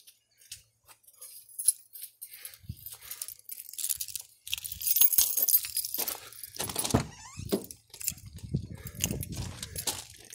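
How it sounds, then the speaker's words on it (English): Car keys for a 1998 Toyota Camry with about 295,000 miles jingle and clink in short bursts, close by. Scattered rustling and handling noises run through the quiet stretch with no speech. "let me get the keys"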